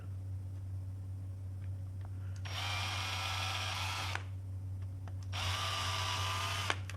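A small power drill whirs into a PS4 controller shell in two bursts of about two seconds each, separated by a short pause, over a steady low background hum.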